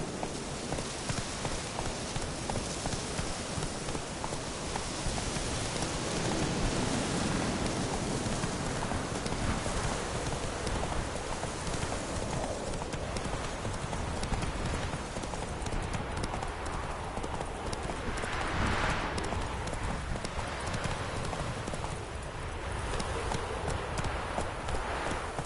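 Roach, Geralt's horse in The Witcher 3 video game, gallops in a steady rapid clip-clop of hooves over a continuous rain-like wash, sustained and close throughout.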